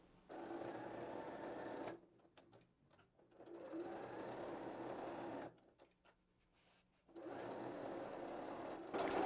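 Sewing machine stitching a pocket onto a bag lining, running in three steady bursts of fast, even stitching, close and clear, with brief quiet pauses between runs.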